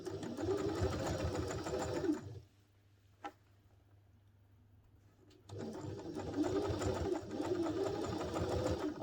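Sewing machine stitching a new seam on a fabric messenger satchel bag, running loud and steady in two long bursts separated by a near-silent pause with a faint low hum and a single click.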